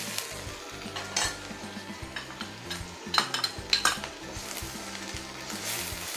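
Shrimp stirred with ginger, garlic and green chili pastes in a pan, with a cluster of metallic clinks and scrapes of the utensil against the pan over a soft sizzle and background hum.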